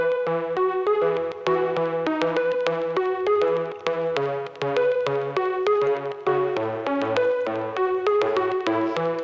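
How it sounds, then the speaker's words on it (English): A harp melody for an instrumental track built in FL Studio, plucked notes in a flowing repeated pattern over soft low bass tones, clear and alone. "I took the harp that I mentioned."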